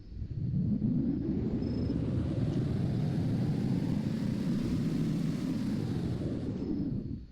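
Ford SUV in the Greenville driving game running a 0-60 acceleration and braking test, a steady loud low engine and road rumble that holds constant throughout with no talk.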